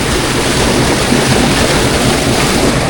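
Steady rushing water from a Bali waterfall pours continuously nearby, a dense broadband roar with no pauses.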